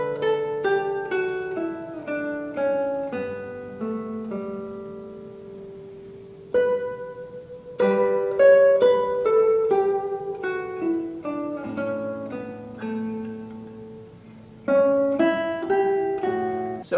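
Solo classical guitar plays a plain, unembellished Vivaldi passage, plucked notes in a flowing melodic line with brief pauses between phrases, close and clear with no talking.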